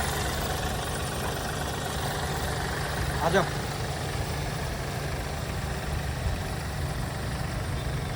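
A 2016 Mahindra TUV300 T8 diesel engine idles close by, a constant low rumble throughout with a brief voice cutting in midway.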